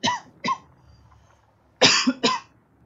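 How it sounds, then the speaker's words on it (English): A man coughs four times with no one else talking: two sharp coughs, a short pause, then two heavier, louder coughs close to the microphone. "Fucking cough. Sorry for that."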